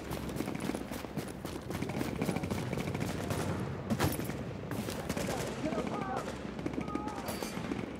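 Rapid bursts of gunfire from Tom Clancy's The Division, crackling continuously across the Dark Zone, with dense overlapping shots under a busy mix of game sounds.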